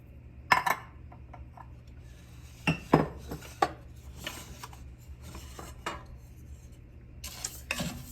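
Rice gets stirred in oil in a pan, with close, intermittent scrapes and light metallic clinks of the utensil against the pan, separated by quiet gaps.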